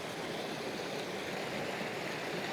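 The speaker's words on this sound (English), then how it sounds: "There's a little waterfall in between two big rocks that are forming like an arch almost." A small waterfall pours between two large rocks forming a near-arch at Ben Lawers Dam, Scotland, fast-flowing water giving a steady, broad rushing hiss, moderately distant and constant, with no voices.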